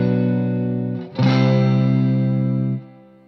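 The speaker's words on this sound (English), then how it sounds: "I wanted that hot overdriven Fender-esque amp saturation." An electric guitar runs through a mini overdrive pedal for hot, Fender-style amp saturation. A sustained, gritty chord rings loudly, is briefly choked, then is re-struck and held before fading out.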